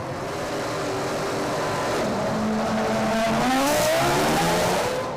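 A 2006 Formula 1 car at a Grand Prix pit stop, its engine note rising and falling loudly and continuously, with high-pitched revving and tyre squeal.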